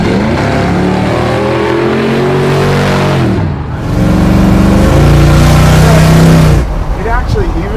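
A supercharged 1968 Ford F100 pro touring truck engine revs up through the gears, loud and close from inside the cab, easing off briefly before surging again, with a voice speaking over it.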